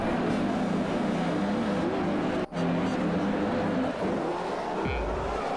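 Race cars on the starting grid at a motor racing event in Australia, engines idling with a continuous droning roar and occasional revs rising and falling, loud and close, with a brief dropout partway through.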